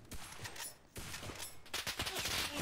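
Gunfire in the video game Enlisted, with repeated shots and bursts cracking in uneven clusters, a brief lull near the middle, then a denser, louder volley toward the end.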